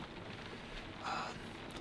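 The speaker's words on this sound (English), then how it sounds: "We just had pouring down rain yesterday and rain this morning" Rain falls on a rainy day in Pennsylvania during turkey season, a faint, steady hiss of drops with a brief brighter patter partway through.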